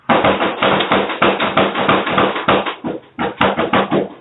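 A long, fast string of loud, sharp gunshots fires almost continuously, with one brief pause before the rapid bursts resume, captured by a surveillance camera during a deadly shooting.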